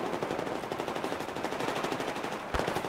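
Rapid, continuous automatic gunfire in Battlefield 4 rattles steadily throughout, with a heavier blast near the end, dense and mechanical like game weapon fire.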